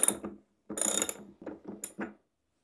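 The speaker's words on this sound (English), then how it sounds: "then tightening the bolt back onto the shunt" Wrench tightening a bolt onto a battery monitor shunt, a few short ratcheting clicks in separate bursts, close and quiet.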